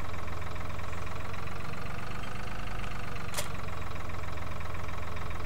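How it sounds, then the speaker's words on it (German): A tractor engine idles steadily in the farming video game Landwirtschafts-Simulator 2013, a constant low rumbling drone with even loudness throughout and a brief click partway through, with no talk. "Jetzt packen wir uns gleich mal der andere Traktor"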